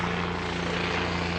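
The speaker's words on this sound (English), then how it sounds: "helicopters, I don't know if you hear them like me, but I can't even hear myself when this happens." Helicopters fly near a volcano, filling the air with a loud, steady rotor and engine drone that holds an even level throughout without a break.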